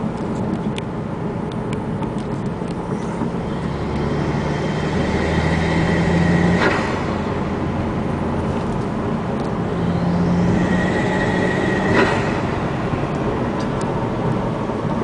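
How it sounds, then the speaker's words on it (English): A 2005 Saab 9-3 2.0T with an automatic kicks down into 4th and accelerates, its turbo engine droning under steady cabin road noise, with two rising swells, each ending in a sharp click-like transient. "I'll kick this back down in 4th, let you hear it a little bit, see this boost gauge creep."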